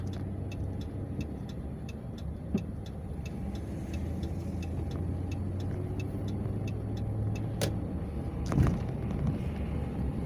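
Trucks idle and move through the Atlanta Farmers Market lot at mid-afternoon, a steady low engine rumble with regular faint reversing beeps and a brief air-brake hiss near the end.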